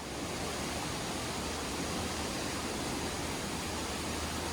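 A small waterfall on a river in an urban wildlife spot, heard as a steady, loud, broadband rush of falling water that continues unbroken throughout, with no voices.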